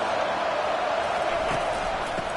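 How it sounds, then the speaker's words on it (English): A loud stadium crowd roars steadily in an NCAA college football video game, Oregon vs Northwestern, a dense continuous wash of noise with no breaks across the moment. "It is getting loud as this crowd tries to help its defense."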